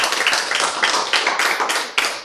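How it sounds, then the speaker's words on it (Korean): Dense audience applause fills a health lecture hall, many hands clapping steadily and fairly loud for a couple of seconds, with no talking over it. "박수"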